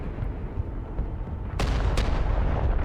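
Artillery barrage from a heavy vehicle in the Broken Arrow strategy game: a couple of sharp distant cannon reports over a low rumbling battlefield, followed by sustained deep booming.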